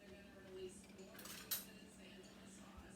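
Cutlery clinks and rattles in a kitchen drawer while someone searches for a spoon during soup preparation, a brief metallic jangle near the middle with one sharper clink, faint and close over a low background hum.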